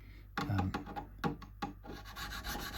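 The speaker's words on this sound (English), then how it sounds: "leveling process using the banana, which only cuts at 400 grit at most" A banana-shaped sanding beam with 400-grit abrasive levels the frets of a Rally Big Apple jazz hollow-body guitar, making soft, close rasping strokes that repeat in an uneven rhythm on a quiet background.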